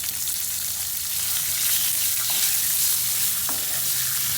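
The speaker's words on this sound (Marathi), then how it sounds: "आता हे सर्व जिन्नस आपण दोन मिनटं चांगले परतायचे आहे" Ajwain leaves and other chutney ingredients sauté in a hot pan, giving a steady, close frying hiss with light stirring scrapes throughout and no talking.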